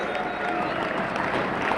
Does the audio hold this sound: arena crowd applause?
yes